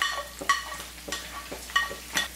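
Spoon scraping through rice with carrot and pineapple in a pot for Manjali chicken biriyani, a series of about six crisp, close stirring strokes at an even rhythm over a faint background hum.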